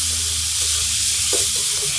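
Yardlong beans frying in oil with turmeric and salt sizzle steadily while a spoon stirs through them, with a few scraping knocks against the pan, close and without speech.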